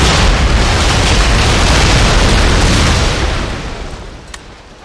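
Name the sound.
grapeshot cannon fire from the video game Empire: Total War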